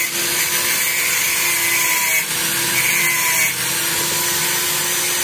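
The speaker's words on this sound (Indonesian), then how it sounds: "coba kita gerinda dulu ya bro ya" An angle grinder cuts through the weld on a CMS exhaust for a Honda Scoopy motorbike, a loud, continuous, close-up whine and hiss of abrasive on metal with only brief dips in pressure.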